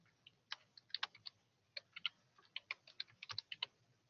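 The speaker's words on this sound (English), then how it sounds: "I'll type it out." Fingers tap on a computer keyboard in quick, uneven bursts of crisp clicks, close and quiet, with short pauses between runs of keystrokes.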